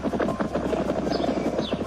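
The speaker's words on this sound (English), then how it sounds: "there's this guy posting clips around Yellowstone of the ground literally groaning" Deep groaning rumble from underground near Yellowstone, pulsing steadily like a distant helicopter's rotor chop, loud and continuous throughout.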